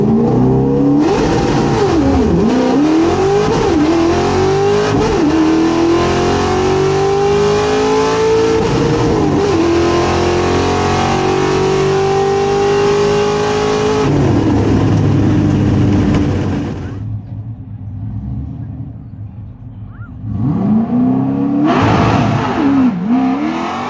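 A 1968 Ford Torino GT with a 302 V8 and T5 manual gearbox launches down a drag strip at a test-and-tune event, loud engine revving climbing through the gears with brief shift dips, then fading away before a second engine rev near the end.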